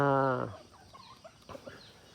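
Backyard chickens in a coop give one loud, harmonic fowl call at the start, likely a rooster crow or turkey-like gobble, then fade into quiet scratching and faint clucks.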